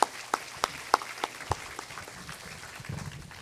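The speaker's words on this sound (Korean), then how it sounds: "다시 한번 큰 박수를 치도록 하겠습니다" An audience at a university lecture forum gives a thin, quiet round of applause, with scattered individual claps at first that thicken into a soft patter near the end.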